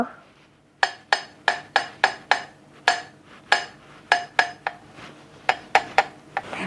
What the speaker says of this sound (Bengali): অল্প একটু করে সুগার পাউডার দিয়ে মিক্স করে নেব।